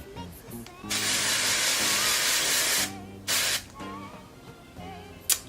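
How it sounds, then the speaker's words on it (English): A long hissing blast from an aerosol hair spray can aimed at hair roots, followed by a shorter spray burst and a brief final puff, with a faint voice underneath. "I'm just gonna spray that right on my roots"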